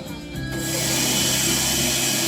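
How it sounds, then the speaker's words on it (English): Leaf blower switched on during a science stage show, a broadband whooshing roar that rises over half a second and then holds steady and loud. "Turn on the leaf blower."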